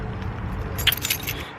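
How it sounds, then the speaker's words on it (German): A bunch of keys jangles briefly and brightly, a close metallic rattle lasting under a second against a low background hum. "Ich habe die Schlüssel."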